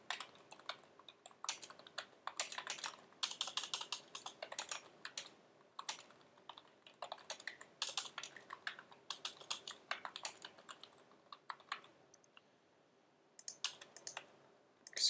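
Rapid clicking of computer keyboard typing, in irregular bursts with brief pauses, close and clear with no talking.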